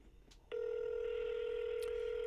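A telephone keypad gives a short tap, then one steady dial tone holds on, loud and unbroken, while a call is placed.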